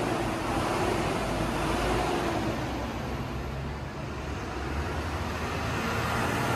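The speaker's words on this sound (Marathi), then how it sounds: "आपण ज्या गाडीनं प्रवास करतोय ती टाटा कंपनीची बस आहे।" Tata state transport bus running on the road from Trimbakeshwar to Parali, a steady broadband engine and road rumble heard from inside the cabin, continuous and fairly loud with no talking.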